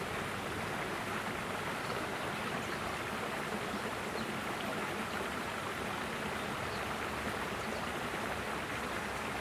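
A large woodland stream with stones and small dams of leaves and branches, flowing in a constant, dense rush of water that stays loud and even from start to finish, with no voices.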